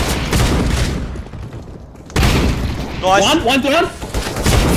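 Sawn-off shotgun blasts in a first-person shooter video game, loud bursts of gunfire across the clip, with a short pause before firing resumes amid game effects and excited player talk.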